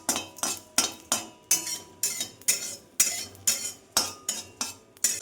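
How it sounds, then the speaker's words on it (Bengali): Dry lentils (kalai) roasting in a pan while a spatula scrapes and clinks against the metal in a steady, fast rhythm of sharp strokes, close up, with no talking. "তো এটা আমি প্রথমে একটু শুকনো কলাই এখানে ভেজে নেব।"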